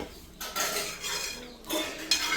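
A metal spatula scrapes and stirs around a pan as ground sambar powder, asafoetida, turmeric and salt are sautéed, giving close, repeated clinking scrapes with no talk.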